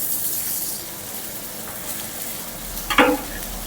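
Sprouted moth beans frying in oil with browned onion, salt and turmeric: a steady, fairly quiet sizzle, then a brief scraping stir near the end.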